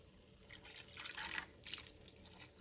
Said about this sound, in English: Just add a little bit of water.